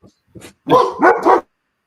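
A dog barks several times close by, a short yip followed by three louder, rough barks in quick succession, with no talk.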